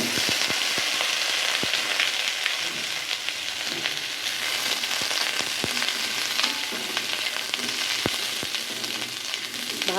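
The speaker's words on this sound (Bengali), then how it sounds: "গরম তেলে আলুটা ছেড়ে দিব।" Boiled small red potatoes fry in hot oil with a steady, loud sizzle, dense crackle and scattered sharp pops throughout, with no voices.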